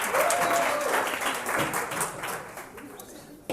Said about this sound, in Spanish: Un aplauso para Andreas